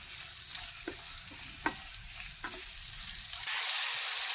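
Jackfruit, green chilli and onion sautéing in oil, a steady close sizzle with several soft spoon scrapes and taps, ending in a sudden louder hiss.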